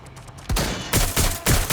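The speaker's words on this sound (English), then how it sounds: "Gunfire!" A quick burst of video game gunfire in Watch Dogs: Legion, several sharp loud shots cracking close together in rapid succession, with no talking.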